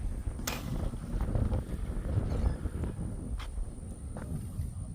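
Gusty wind on a farm buffets the microphone with a low, uneven rumble outdoors, with a few faint clicks and knocks in the background.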